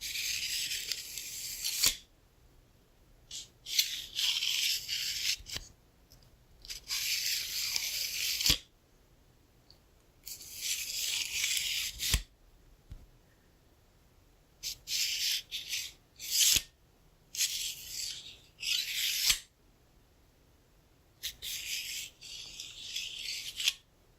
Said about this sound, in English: I also thought that my calipers might make a good sound